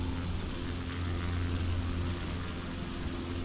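Steady droning propeller engine of a bush plane in Flight Simulator 2020, flying in windy weather, a constant loud hum with no breaks or talk.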